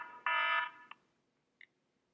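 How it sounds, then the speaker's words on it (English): A kitchen-style timer alarm goes off in a quiet room, a loud steady electronic buzz lasting about a third of a second, followed by two short, fainter beeps. "timer."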